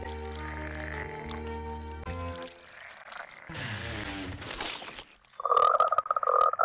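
Cartoon frogs croak in a loud, bright burst of repeated calls near the end, after a stretch of music and watery swooshing sound effects in a Monster High animated scene.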